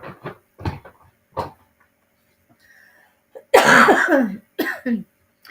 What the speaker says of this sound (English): You guys excuse my coughing here.